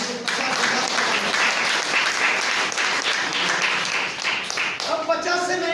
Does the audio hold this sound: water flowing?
no